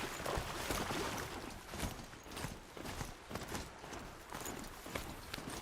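Horse hooves clip-clop steadily through a Horizon Zero Dawn gameplay scene, a continuous rhythmic trotting with scattered louder impacts, mixed with other game sounds at moderate level.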